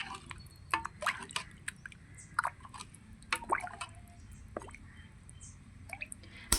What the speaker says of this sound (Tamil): இப்போ நல்லா மிக்ஸ் பண்ணி விட்டுக்கோங்க.